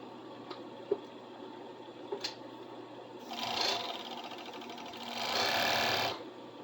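Sewing machine running a zigzag stitch along a fabric edge, two short whirring runs of rapid mechanical ticking after a few faint clicks, close but fairly quiet.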